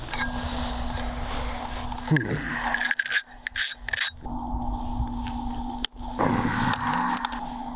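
Pressure flaking on a stone Nipawin projectile point gives a series of short, close scraping and snapping clicks, spaced unevenly over a low steady hum.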